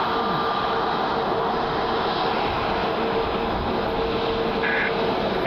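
An Aer Lingus Airbus A321neo jet airliner at Cleveland Hopkins International Airport, heard as a steady, broad engine roar that holds for several seconds at a fairly constant moderate level with no pause.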